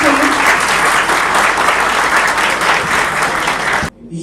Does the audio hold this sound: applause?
yes